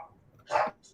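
A dog gives a single short bark that stands out, loud and close, against a quiet background with a faint murmur of voices.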